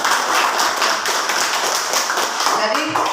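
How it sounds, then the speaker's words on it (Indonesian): A school class claps for students after a scrapbook project, a dense, steady round of handclaps lasting a few seconds with faint voices underneath. "Mari kita tepuk tangan."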